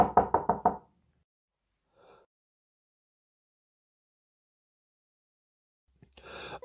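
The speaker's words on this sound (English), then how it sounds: "Shortly after, he heard a knock at the door." Knocking at a door as a sound effect: a quick run of about five sharp, close knocks, followed by a faint brief sound and long silence before another burst near the end.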